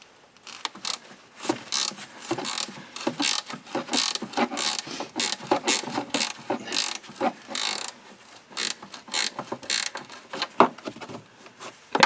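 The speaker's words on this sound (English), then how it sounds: "And this is probably the best tool for this, one of these ratcheting wrenches." A ratcheting wrench loosens a fender flare nut on a 1997–2006 Jeep Wrangler TJ, with rapid, close metallic clicking in repeated bursts and short pauses between strokes.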